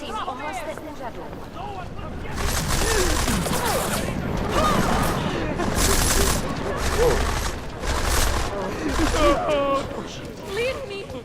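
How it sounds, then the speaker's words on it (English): Gunfire in a public shooting in the game Deus Ex: Mankind Divided, several loud bursts of shots spaced a second or two apart amid a panicked crowd, with shouting voices throughout. "Gunshot! Get down! Run! Get behind! There's a shooting!"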